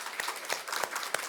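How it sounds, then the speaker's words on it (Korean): A church congregation claps during a Korean Sunday worship service, a brief, moderately loud burst of many hands with a few sharper claps standing out. "우리 격려의 박수 한번 드리겠습니다"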